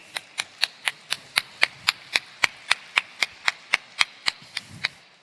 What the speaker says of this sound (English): So please give a big round of applause for Ian and Ines.